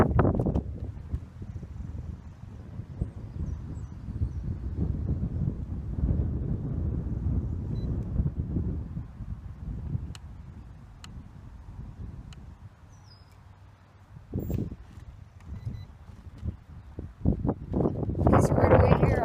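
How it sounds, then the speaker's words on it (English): Gusty wind buffets a DJI X4 drone outdoors on a windy day, a loud, steady low rumble of wind noise on the microphone that swells and eases, dipping briefly before strong gusts return near the end. "Windy. You definitely feel the wind there."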